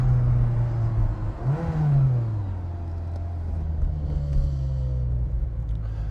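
A 1989 Ferrari Mondial T Cabriolet sweeps past on a chilly road, its engine note rising and falling through a steady rumble with a brief surge as it goes by, loud and close throughout.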